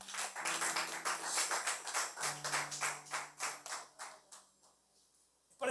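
A church congregation gives applause to Jesus in rhythmic, roughly even claps that continue steadily, then thin out and fade near the end, with a sustained tone underneath.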